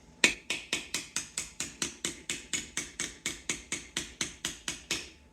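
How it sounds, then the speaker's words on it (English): A lock washer on the oil pump gear nut of a BMW R69S motorcycle engine is bent down with repeated hammer taps, about twenty sharp metallic strikes at a steady quick rhythm, close and clear. "So you'll want to bend that lock washer down."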